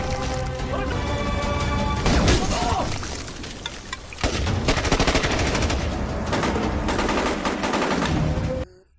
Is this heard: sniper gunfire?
yes